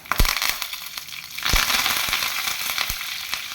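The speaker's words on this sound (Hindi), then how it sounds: "तो मस्टर्ड भी चटक रही है, चटकना है मस्टर्ड" Mustard seeds crackle and pop in hot oil, sharp irregular snaps over a steady sizzle, close and fairly loud.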